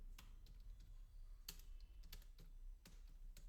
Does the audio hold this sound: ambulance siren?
no